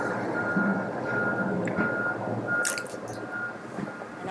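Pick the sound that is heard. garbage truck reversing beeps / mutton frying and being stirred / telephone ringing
garbage truck reversing beeps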